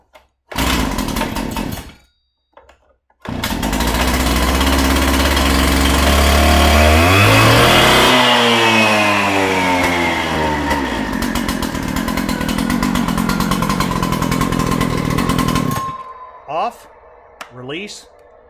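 An SVC4 cutoff saw engine is pull-started, catches with a sputter, then revs hard and settles into a loud continuous roar before cutting off and falling silent.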